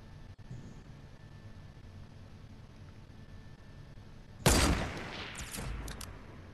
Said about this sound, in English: I hear a sniper going on.